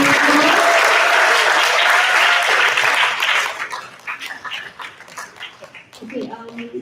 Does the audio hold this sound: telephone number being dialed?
no